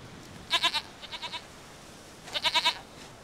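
A goat bleats in The Witcher 3, giving three bursts of short, shaky cries: a loud trio, a softer quick series, then another loud run of four, with quiet gaps between.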